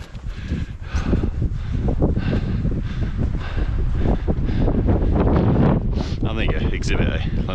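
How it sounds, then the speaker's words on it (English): Strong wind gusting on an icy mountain pass on Yatsugatake, buffeting the microphone with constant loud roaring rumble, with a person talking through it. "And the wind's back as well, sorry."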